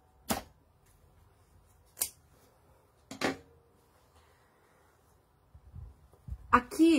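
Scissors trimming excess zipper during sewing: three separate sharp snips spaced about a second apart, close and fairly quiet, followed by some soft handling clatter.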